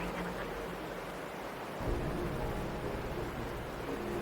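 Steady rainfall hisses across the whole span in the video game Wuthering Waves, with a deeper rumble of thunder rolling in about halfway and lingering beneath the downpour; no voices.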